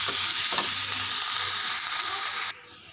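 Cooked drumstick leaves palya being stirred in a hot pan, a loud continuous sizzle with a couple of scraping strokes near the start, close up, ending abruptly.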